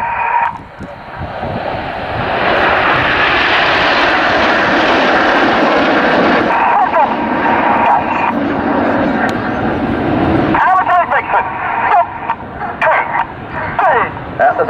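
RAF Red Arrows Hawk jets fly overhead in a tight swan formation at RAF Cosford, a broad roaring jet rush swelling and fading at a distance, with a voice talking over it.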